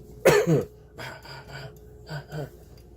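A sharp gasping cough is followed by a few softer, raspy coughs and breaths, close up and without words.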